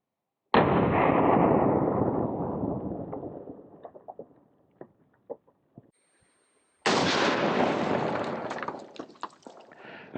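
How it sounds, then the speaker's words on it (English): A Springfield sniper rifle fires a black tip 30-06 armor piercing round: two loud, sharp shots several seconds apart, each with a long rolling outdoor echo that decays slowly, followed by scattered faint knocks. "we have that black tip 30-06 armor piercing coming out of my Springfield sniper rifle here"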